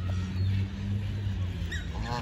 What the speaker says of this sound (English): Hear the ducks asking for food.